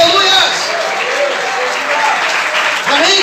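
A church congregation applauds to glorify God during an evening service, dense sustained clapping close and loud throughout, with voices calling out over it.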